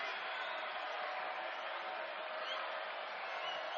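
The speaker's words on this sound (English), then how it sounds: "Crowd cranking up the noise a little bit, sensing they need to help their Rams get out of here with a sweep" A volleyball crowd at a women's college tournament match keeps up a steady, dense wash of cheering and noise that holds at an even level throughout.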